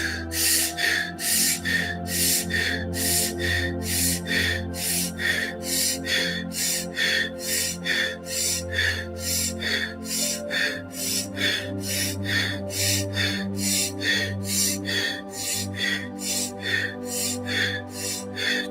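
Fast, forceful breathwork breaths during a guided meditation, a steady rapid rhythm of sharp inhales and exhales repeating roughly twice per second, close and clear.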